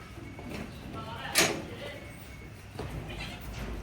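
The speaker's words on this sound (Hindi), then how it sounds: "फिर बकरियों को छत पे भेज देंगे, बकरे बाहर आ जाएंगे।" Goats and kids in a small household pen or room during Ramadan give brief bleats, one sharp cry standing out among fainter calls, while people talk and move around nearby.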